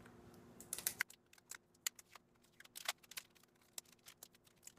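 Foil tape peeled off a water hoop, a quick run of small crackling ticks and crinkles, faint and close, with irregular bursts and brief pauses.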